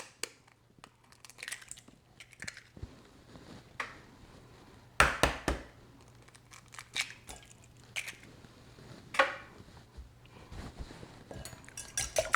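Two large eggs are beaten in a bowl for pumpkin pie, with scattered clinks and taps of a utensil against the bowl and soft wet squishing, in irregular bursts.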